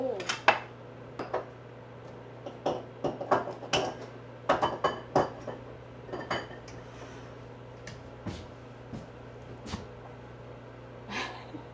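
Eggs being put into a bowl while making breakfast rice, heard as a string of close, sharp clinks and taps of shells and utensils against dishes, irregular and separated by short pauses.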